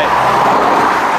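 A car passes on a narrow country road, a steady broadband roadway rush that stays loud and close throughout without a clear peak, heard briefly while waiting at a junction.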